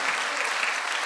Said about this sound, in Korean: 초등학생들 우리 박수 한번 합시다